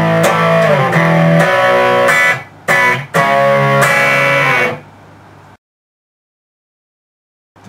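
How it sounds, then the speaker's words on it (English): Electric guitar from a song slides into the next chord, a few sustained strummed chords with brief breaks, then a held chord fading into silence. "So you have to connect that slide with the next chord,"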